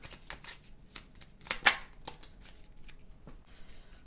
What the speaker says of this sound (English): I'm going to shuffle a couple of oracle cards all at once